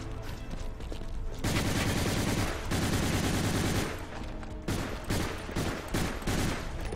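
Sustained automatic gunfire in a Gears of War zombies video game, long loud rattling bursts broken by short gaps, then choppier shots toward the end, with no talk.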